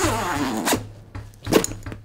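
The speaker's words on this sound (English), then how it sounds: "It's got these huge, big ol' YKK zippers on it" A large YKK zipper on a Topo Mountain briefcase is pulled open in a few short, close raspy strokes, smooth rather than catchy, with faint handling noise around it.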